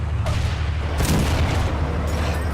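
In the Men of War: Assault Squad 2 game, a tank cannon shot strikes an enemy tank's tracks, giving a deep booming blast with a rumbling tail over steady battle noise and engine drone, loud and close.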